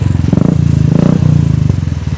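A motorcycle is ridden during a music video shoot, its engine pulsing in a loud, close, rapid throb that swells and dips with the throttle.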